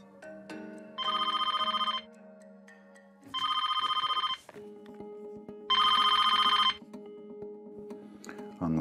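A telephone rings in three repeated electronic trill bursts, each about a second long and separated by pauses, loud and close over a quiet background with faint music.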